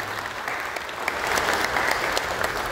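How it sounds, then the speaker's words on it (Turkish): Audience applause at a municipal disaster-management meeting, a steady round of clapping from a seated crowd that builds slightly and holds, close and fairly loud. "Sizlerden bir alkış da istiyorum."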